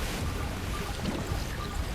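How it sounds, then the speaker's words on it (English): Rushing water in Kena: Bridge of Spirits, a steady broadband wash with low rumble, continuous and fairly loud throughout the short stretch, with no voices over it. "I hear a lot of water."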